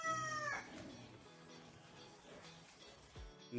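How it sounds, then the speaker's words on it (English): A rooster crows near the start, followed by a clattery mix of background sounds and a short burst at the end. "the rooster always making noise"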